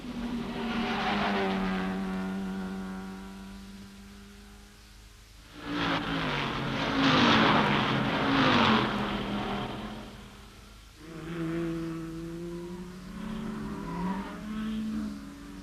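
Jaguar and Ford Mustang racing cars compete on a mountain course during the 1964 Tour Auto in France. Their engines roar and rise in pitch as the cars accelerate and pass, with loud, gritty bursts in between, and no one speaks.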